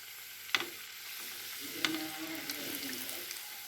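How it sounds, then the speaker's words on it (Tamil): Somas, sweet stuffed pastries, frying in hot oil in a kadai, giving a soft, steady sizzle with a couple of sharp clinks, fairly quiet and close. "இப்போ போட்டு எண்ணெயில் பொரிப்போம்."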